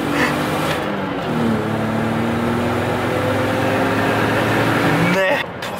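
A supercharged BMW accelerates hard with wheelspin through the gears. The engine drone holds loud and steady with rising pitch sweeps and a brief drop at a shift, close to the car.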